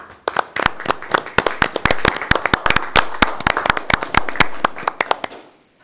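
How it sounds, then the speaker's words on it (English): Applause at a village board meeting, where a small group of people clap in a quick, loud series of distinct hand claps close by, lasting several seconds before tapering off. "if you wouldn't mind joining me in giving an applause and thanking Ann and her staff."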